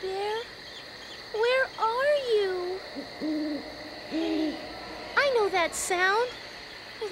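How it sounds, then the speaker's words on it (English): An owl hoots repeatedly, soft wavering calls spaced a second or so apart over a quiet background, with a few words spoken briefly. "that's an owl"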